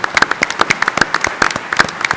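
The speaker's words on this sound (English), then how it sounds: "A round of applause." A crowd at a naval aviation symposium applauds Vietnam War veterans, with close, sharp claps in an uneven rhythm throughout.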